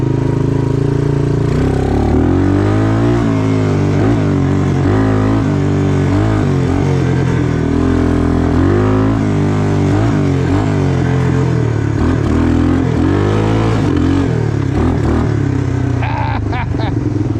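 A 1986 Suzuki Quadrunner LT250EF ATV engine running in second gear, a loud, close, continuous buzzing drone that rises and falls with throttle, with brief clattering near the end.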